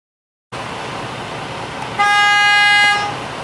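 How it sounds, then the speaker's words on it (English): A Class A truck's steady engine hum, then its electric city horn honks for about a second, loud and close, before fading back to idle. "The city horn is working."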